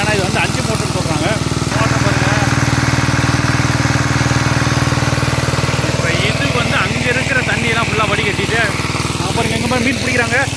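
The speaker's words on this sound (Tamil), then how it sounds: "இப்போ இது வந்து டீசல் இன்ஜினுங்க நீங்கள் பார்த்துட்டுருக்கிறது" Diesel engine running a water pump at a lake, a steady loud mechanical drone throughout with irregular chatter and voices layered over it.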